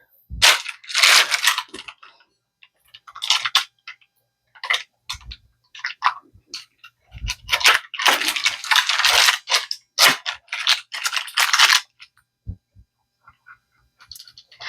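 Crisp, irregular crunching and scraping bursts ring out close by as baked school-lunch pizza is sliced into pieces to fit lunch trays, separated by short silent gaps.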